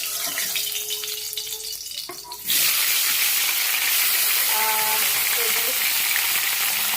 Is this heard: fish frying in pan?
yes